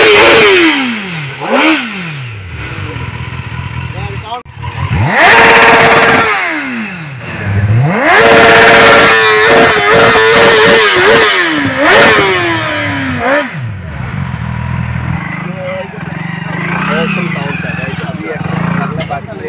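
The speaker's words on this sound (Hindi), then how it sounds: "আপনারা দেখেন কাওয়াসাকি নিনজা ZX 10R" A Kawasaki Ninja ZX-10R with its stock exhaust revs loudly and close by in repeated sharp climbs and drops, with the engine snarling between revs and some background clatter.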